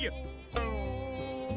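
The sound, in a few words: flies buzzing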